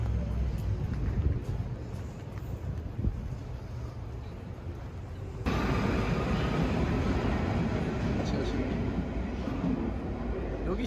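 A Paris metro subway train rumbles and roars in a dense, steady wash that jumps louder halfway through.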